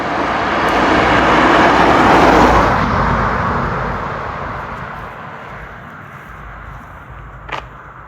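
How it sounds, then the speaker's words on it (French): On a road in the Vosges, a car approaches and passes close by with a loud swelling roar, then fades away into the distance. "Il y a une voiture qui arrive."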